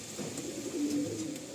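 Pigeons in a loft coo with a soft, steady, low murmur that runs through the whole moment at moderate, close range.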